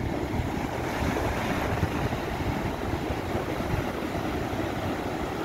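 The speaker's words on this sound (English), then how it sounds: "Look at that wave going sideways." Ocean waves breaking at a rip current, a continuous broad roar of surf with gusting wind noise on the microphone, loud and steady with no voices.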